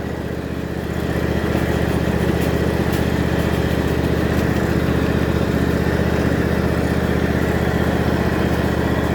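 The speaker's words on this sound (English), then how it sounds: "So far my tractor's not bogging down." Tractor engine running steadily and loudly up close, a continuous rough drone with no let-up and no talk.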